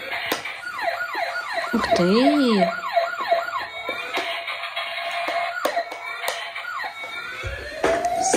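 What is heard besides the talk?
toy fire truck siren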